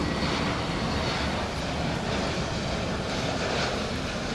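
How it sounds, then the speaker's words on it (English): An American Airlines Airbus A321neo arriving at DFW Airport at night, its steady broadband engine roar loud and continuous throughout with no voices present. "American 2485 is coming in from San Diego, Airbus A321neo."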